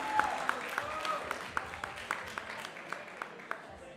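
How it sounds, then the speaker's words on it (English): Scattered spectators clap rhythmically at a jiu-jitsu match, a steady series of sharp, fairly distant hand claps spaced about every half second beneath faint background noise and some talk. "Some encouragement from the crowd."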